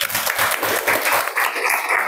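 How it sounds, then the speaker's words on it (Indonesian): A classroom of students applauds after group project presentations, with steady, dense clapping that continues for a couple of seconds at moderate distance. "Tepuk tangan dulu."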